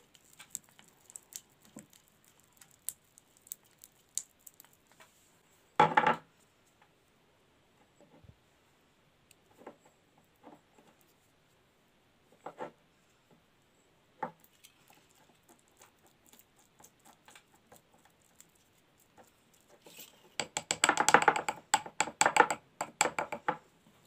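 Thick, hard cream ingredients being stirred in a small container: sparse soft ticks and sticky squishing scrapes, quiet and intermittent, with a denser burst of rapid stirring toward the end and no talking.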